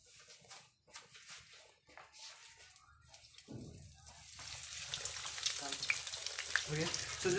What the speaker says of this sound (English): So I'll be frying my cottage cheese steak.